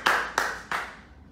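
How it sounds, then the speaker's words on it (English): Three sharp, separate hand claps ring out in quick succession and fade, a short, sparse round of applause at a fundraising event with no talk over it. "Round of applause."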